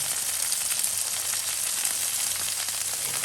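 Butter sizzles steadily on a Blackstone flat top grill turned to low, alongside a full rack of barbecue pork ribs outdoors, a bright continuous frying hiss close by with no voices.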